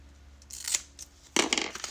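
Scissors trim material for a homecoming mum, producing two close, crisp cutting snips separated by a short pause.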